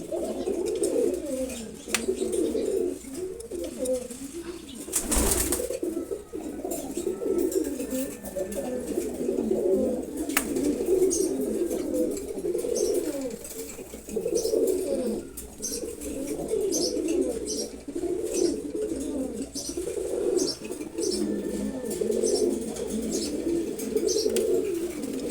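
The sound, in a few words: racing pigeons cooing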